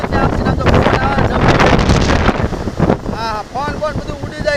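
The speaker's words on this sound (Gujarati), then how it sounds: "ભયંકર પવન આમ તો કાંઈ દેખાતું નથી આમ તો પવન આવે" Violent wind gusting through a village in a wind-and-rain storm, heavy roaring buffeting that eases slightly toward the end, while someone speaks over it.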